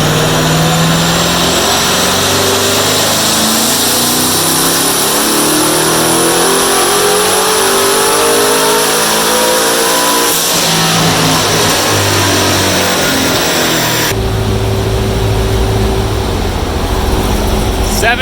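A twin-turbo Chevrolet Corvette C7 engine, loud and close, climbing steadily in pitch as it revs hard, then dropping back to a lower drone near the end.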